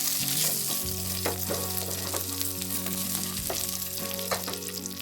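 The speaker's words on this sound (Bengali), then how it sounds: "এবার এর মধ্যে কাজু কিশমিশগুলো দিয়ে হালকা করে ভেজে নিতে হবে" Cashews and raisins fry in oil with asafoetida in a pan for pea kachori filling, producing a continuous close sizzle with occasional stirring clatters and a faint tonal hum underneath, no talking.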